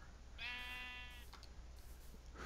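A single sheep bleats in the Aether II video game, a clear wavering call of under a second over a steady background hum, followed by faint soft clicks.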